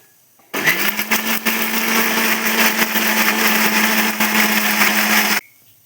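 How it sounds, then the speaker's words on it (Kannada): A mixer grinder blends tamarind with water, starting abruptly and whirring loudly and continuously for about five seconds at a steady motor pitch before cutting off, with no voices. "ಇವಾಗ ಸ್ವಲ್ಪ ನೀರನ್ನು ಹಾಕಿ ಮಿಕ್ಸರ್ ಮಾಡ್ಕೊಳ್ಳೋಣ."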